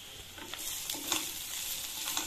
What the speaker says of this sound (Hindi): 1 से 2 मिनट के लिए मैं भून लूंगी।